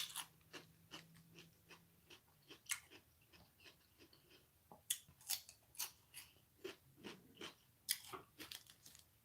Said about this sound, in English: Can you hear the crunch though when I'm live?